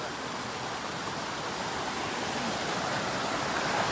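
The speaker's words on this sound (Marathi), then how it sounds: "पाण्याचा आवाज तर वेगळाच" Monsoon waterfall roaring steadily, a loud and continuous rush of falling water with no break or variation and no voices.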